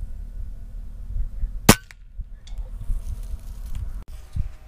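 One sharp, close crack of an Air Venturi Avenger air rifle shooting a JSB Hades pellet at about 1,000 feet per second stands alone, followed by quiet outdoor rustling and a faint thud.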